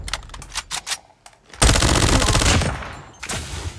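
Gunfire in the video game Call of Duty: a few scattered single shots, then a sustained rapid machine-gun burst, followed by a shorter burst, loud and close.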